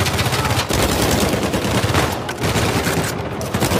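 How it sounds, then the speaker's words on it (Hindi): Gunfire in Uncharted 4: A Thief's End, rapid bursts of automatic shots cracking in quick succession, dense and loud, with brief gaps between volleys. "एलिना के आर पार गोली चला रहा हूं मैं"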